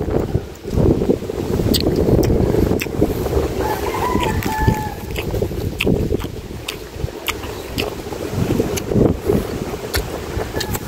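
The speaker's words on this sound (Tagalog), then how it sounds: "Rinig na rinig ang alon, no?" Ocean waves heard from aboard a boat, with splashing water and heavy wind buffeting the microphone, plus scattered sharp knocks and a faint voice in the background.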